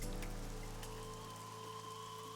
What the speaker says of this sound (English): Now she's standing in the pouring rain with her umbrella up.